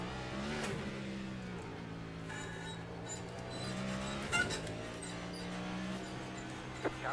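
A race car engine drones steadily in iRacing at Chicago, with a few brief louder bursts as cars pass close by and faint tire noise over a constant hum.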